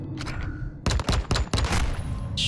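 Gunfire in Call of Duty: Modern Warfare II, loud rapid bursts of shots close by, firing in clusters with brief gaps between volleys.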